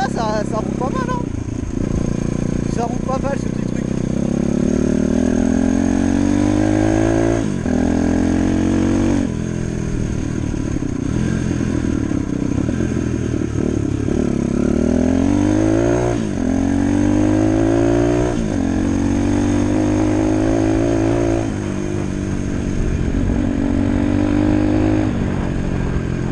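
A small dirt-style motorcycle on its first test ride after being finished, its engine revving up and dropping back repeatedly in rising and falling sweeps, close and loud. A rider's voice talks over the engine at times.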